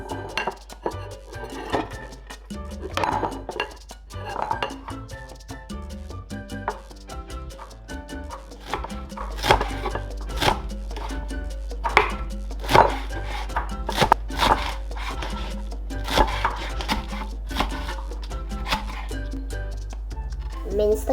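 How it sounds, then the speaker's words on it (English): A knife chops spring onion into small pieces on a board, with rapid, crisp taps in irregular bursts that grow steadier and louder, and faint clinks of kitchenware between strokes. "Cut spring onion into small pieces."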